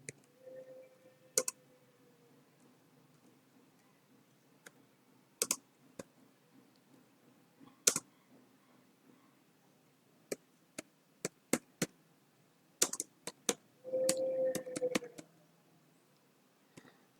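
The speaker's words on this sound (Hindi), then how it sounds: "इस MS वर्ड डॉक्यूमेंट में इस पेज पर कीबोर्ड की सहायता से एक लाइन को टाइप कर रहा हूँ।" Scattered keystrokes on a computer keyboard while a line is typed into a document. Sparse single clicks and short bursts sound close and crisp against quiet, with a brief hum in the background.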